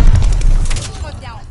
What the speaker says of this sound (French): Bombe collante envoyée.